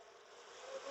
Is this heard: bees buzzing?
yes